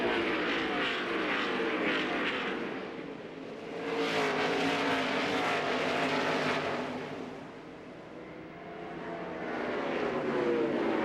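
NASCAR stock cars racing in the 2001 Chevrolet Monte Carlo 400, engines roaring loud and continuous as cars pass close by in waves, swelling and dipping with a Doppler sweep.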